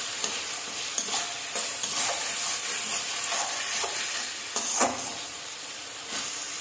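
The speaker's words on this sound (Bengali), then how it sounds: "টক দই আর পোস্ত বাটা দিয়ে আবারও মশলা ভালোভাবে কষিয়ে নিয়েছি" Spice paste frying with sour yogurt and poppy seed paste for a Bengali prawn malai curry: a steady, close sizzling hiss broken by repeated scraping stirs of a spoon in the pan, with no voices.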